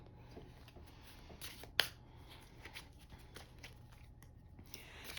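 A deck of tarot cards being shuffled by hand, giving soft papery riffles and taps with one sharper snap, fairly faint and close, with no talking.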